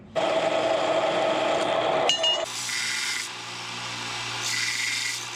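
Threaded rod being cut to length with a power tool in a home workshop, a steady loud grinding whine that shifts pitch partway through, close and continuous without speech.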